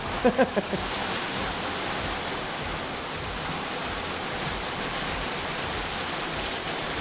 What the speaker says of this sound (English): I don't know if it's starting to hail out there or what, but it's getting kind of loud in here.